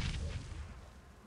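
A bomb goes off in PUBG Mobile gameplay, a single deep boom that swells briefly and then fades out.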